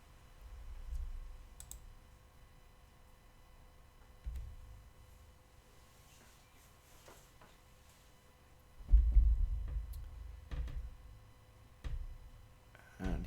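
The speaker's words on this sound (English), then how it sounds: "So I'm going to click save on that," Mouse clicking at a computer while saving in a web automation tool: a handful of faint, sharp, isolated clicks spaced several seconds apart over a low room hum, close to the microphone, with no talking.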